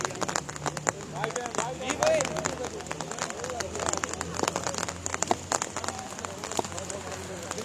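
Heavy rain pouring at a cricket ground, a steady hissing patter with scattered louder drops throughout, while a commentator's voice talks over it.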